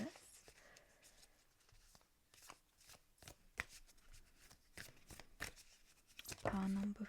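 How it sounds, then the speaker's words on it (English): Oracle cards are shuffled in quiet, irregular flicks and taps close to the mic, with soft talking in the background. "So I'm shuffling on camera"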